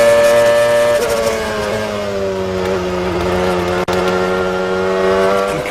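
A Formula One car at high speed, its engine a loud, continuous high-revving scream with a slight pitch drop partway through and a brief sharp click near the end, no voices.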